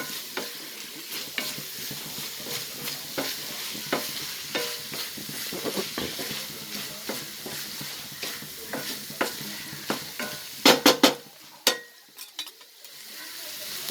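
A spoon stirs a banana flower and coconut stir-fry in a pan, making repeated sharp scraping clicks at an uneven pace over a low sizzle, with a quick burst of knocks near the end.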